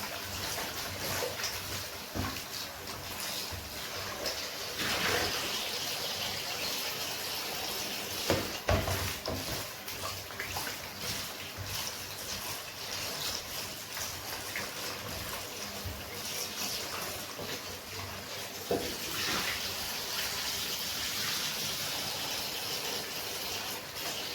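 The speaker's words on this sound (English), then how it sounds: "I'm going to run some water on it first." Tap water runs steadily into a kitchen sink over raw chicken being washed for curry, a continuous close splashing stream with a few sharper knocks along the way.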